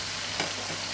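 Cauliflower stirred in a frying pan gives a constant dense sizzle with a brief scraping swish partway through, close and even.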